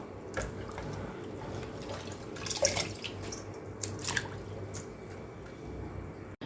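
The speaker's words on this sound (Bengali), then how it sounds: "একবার এরকম করে তুলে নেব, আবার আরেকবার জল দিয়ে ধুয়ে নেব।" Food is rinsed by hand in a bowl of water, with soft splashes, drips and a few sharper sloshes over a low background hum, close and fairly quiet.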